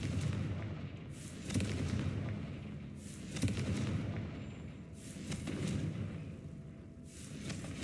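Repeated booming blasts from the Confringo explosion spell in the video game Hogwarts Legacy, several heavy bursts a second or two apart over a continuous rumbling combat backdrop, with no talk.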